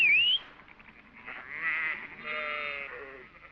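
Sheep bleating in New Zealand high country during mustering, a sharp close cry at the start followed by longer wavering bleats, moderately loud with no talk.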